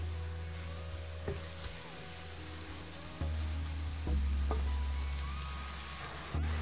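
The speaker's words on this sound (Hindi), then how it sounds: "इस प्याज को थोड़ा सौते कर लेंगे हम।" Chopped onion and tomatoes sauté in a pan for a chicken malai handi, giving a steady, moderate sizzle with a few sharp clicks of stirring scattered throughout.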